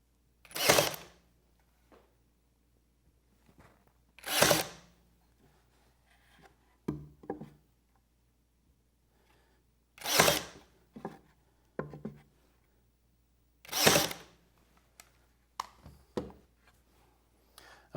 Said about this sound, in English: Now to reinforce the joint, I'm going to drive in some 1-inch pins right in the center